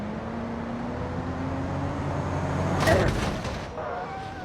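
A Dodge Viper in BeamNG.drive drives past two trucks, a steady engine drone building to a loud sweeping whoosh as it passes, with a low truck hum underneath.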